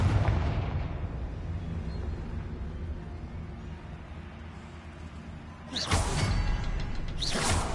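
The Confringo blasting spell goes off in Hogwarts Legacy with a deep, rumbling boom that slowly fades, then a second sharp, loud blast bursts in near the end.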